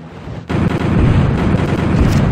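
Cannon artillery fire in the Napoleonic-era strategy game European War 4: Napoleon erupts suddenly into a loud, sustained roar of booming battle noise that carries on without a break, with no talk.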